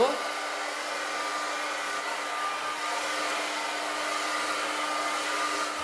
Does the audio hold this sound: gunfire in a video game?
no